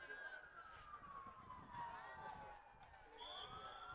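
Police sirens wail as they pass at a distance through the town of Arlington, their pitch sweeping down and then back up, faint behind the ambience of an outdoor high school soccer game.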